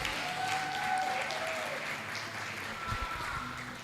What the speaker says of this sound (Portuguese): Se você concorda, dá um aplauso aí a Jesus.